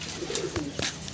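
A high-flying domestic pigeon gives a brief, low cooing call close by against a steady, noisy background hiss.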